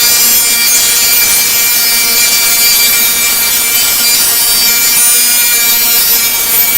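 A table saw with a taper jig rips through a wooden piece, a loud continuous whine and cutting roar held steady with no talk.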